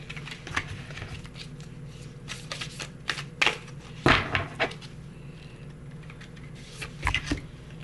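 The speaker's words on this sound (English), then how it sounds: "Let's see if I can shuffle really quickly." Cards are shuffled rapidly up close, a run of crisp riffling flutters and soft taps with brief pauses between bursts.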